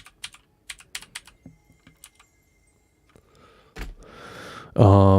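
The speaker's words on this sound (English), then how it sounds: "I guess we just hit every button on the keyboard." Computer keys are pressed in quick irregular clusters, crisp close-up clicks and taps with short pauses between bursts, ending in a sudden loud game sound.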